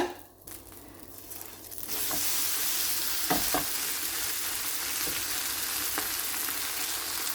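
Curry dosa sizzling on a pan after being flipped: a quiet stretch opens into a strong, steady frying hiss, with a few scrapes and taps from the spatula, close by and with no talking.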